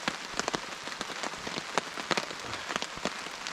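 Steady rain falls at a riverside campsite on the Delaware, close drops tapping sharply and irregularly on a surface over a continuous soft hiss, with no talk.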